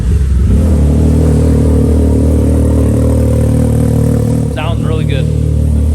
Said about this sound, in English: let's fire this thing back up and get her out of here